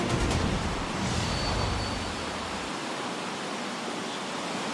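Heavy rain pours steadily over Luzon in the Philippines during the monsoon, making a loud, dense, unbroken hiss with a low rumble that eases partway through; no voices.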